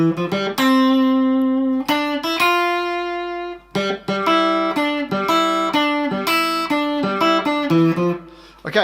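A main theme played on guitar, a clean melodic line of plucked notes in a marching rhythm with one longer held note partway through, close and clear.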